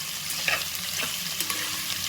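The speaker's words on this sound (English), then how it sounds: "Love that sizzle." Sausage sizzles and crackles steadily in a hot pan, with a few louder pops and the scrape of stirring.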